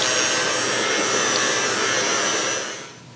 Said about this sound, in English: So I'm going to hit it with my heat gun.